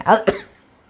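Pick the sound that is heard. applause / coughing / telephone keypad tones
coughing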